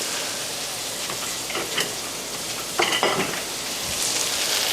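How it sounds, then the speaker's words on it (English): Chopped onions and large chunks of rosemary fry in a pan with a steady, close sizzle and a few clinks of the utensil stirring them, and no one speaks. "We cook our onions"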